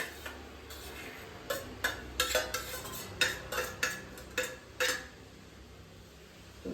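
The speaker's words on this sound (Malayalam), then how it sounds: "മിക്സ് ചെയ്ത് ഒരു 10 മിനിറ്റ് ഇളക്കാവുന്നു" Coconut and spice mixture stirred in a pan with a utensil, a run of close scraping clinks in an irregular rhythm that fade out toward the end.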